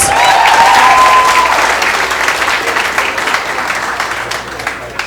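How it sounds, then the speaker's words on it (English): Audience applause at a comedy club night rises loud and full, then gradually thins and fades, with a shout or two over the clapping near the start. "Well done, give me a round of applause!"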